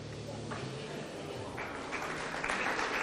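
Scattered audience applause at a US Open Pool Championship quarter final breaks out after a shot, fairly faint and building toward the end, with commentators talking over it.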